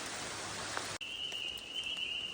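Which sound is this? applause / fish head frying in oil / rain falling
rain falling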